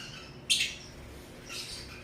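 Two brief, sharp squawks from a bird with a severed foot, the first louder, separated by about a second against a quiet background.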